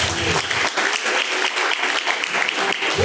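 A congregation at an evangelical worship service claps in praise, a loud, dense burst of many hands that carries on evenly throughout.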